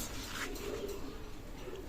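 A Pakistani racing pigeon gives soft, low coos, faint and brief beneath a steady background murmur.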